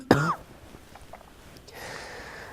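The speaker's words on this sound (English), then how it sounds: "I hope to not see those coughs on YouTube" A single sharp cough bursts out close to the mic at the start, then fades into a quiet room with faint background hiss during a Sunday lecture.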